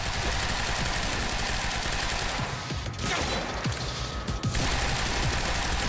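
Rapid gunfire crackles in Quantum Break, loud and continuous bursts of shots with a short lull in the middle before the firing resumes at full intensity.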